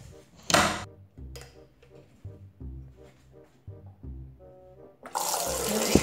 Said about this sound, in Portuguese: Nossa, que torneira potente, gente.